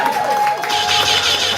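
Poetry slam audience clapping and cheering for the poets, a dense burst of applause mixed with whoops and shouts from a lively crowd throughout.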